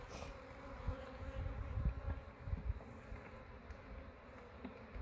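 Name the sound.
honey bees buzzing around their hive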